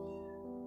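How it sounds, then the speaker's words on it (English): A cat lets out a drawn-out, whiny meow, close and fairly loud, alone without any talking. "I don't know if you can hear my cat yelling in the background."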